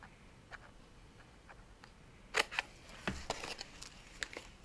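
Scissors snip through paper for a handmade journal, with a few faint early cuts followed by a quick cluster of sharper, closer snips; quiet background and no speech.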